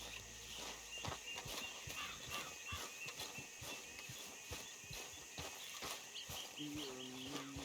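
A horse-drawn wagon in the video game Red Dead Redemption 2, with a steady clip-clop of hooves and rolling wheels passing close by over a constant outdoor ambience, while characters talk.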